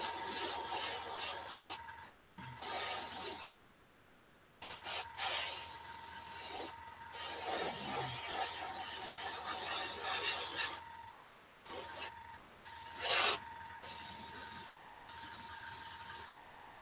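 Airbrush air passed from a distance over a freshly painted miniature face to speed drying, giving intermittent bursts of soft hiss and rushing air separated by short pauses, moderately quiet and close.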